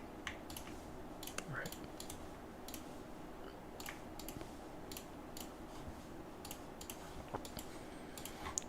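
Computer keyboard typing at a trading desk, a run of light scattered clicks over a steady background hum, fairly quiet and close with no talking.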